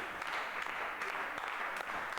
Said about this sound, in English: Crowd getting right into it.